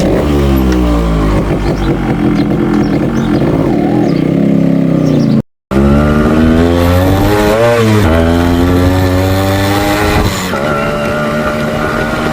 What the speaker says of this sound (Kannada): ಈ 2 ಸ್ಟ್ರೋಕ್ ಗಾಡಿಗಳಿಗೆ ಕಿಕ್ಕರ್ ತೆಗ್ದು ಕಿಕ್ಕರ್ ಹೊಡೆಯೋದ್ರಲ್ಲೇ ಇರೋದು ಗುರು ಮಜಾ